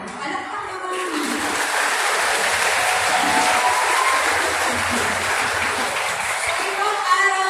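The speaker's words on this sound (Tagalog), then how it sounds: "Palakpak naman." A crowd of students and parents at a grade 9 school recognition day bursts into applause, a broad, steady roar of clapping that swells and holds for several seconds, with a voice briefly audible near the end.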